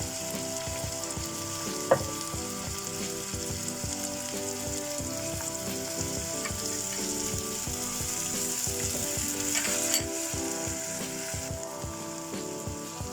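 Chopped tomato and ginger garlic paste frying in a pan for an egg and spinach curry, giving a steady moderate sizzle with small scraping stir clicks throughout, no voices.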